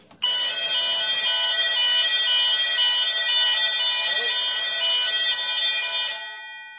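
Fire alarm sounder blares continuously for about six seconds during a system test, a loud harsh electronic tone that cuts off abruptly at the end.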